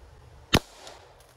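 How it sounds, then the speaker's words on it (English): A homemade gun built from hardware store parts fires once at an outdoor target, a single sharp loud crack followed by a brief faint echo and quiet ambience. "we're gonna shoot it like a gun into some cool targets"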